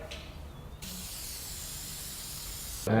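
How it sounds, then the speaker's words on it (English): WD-40 Multi-Use Product sprayed onto a saw blade to clear grime, tar and resin: a steady close aerosol hiss running about two seconds, with a brief louder rustle right at the end. "All you need to do is give it a spray"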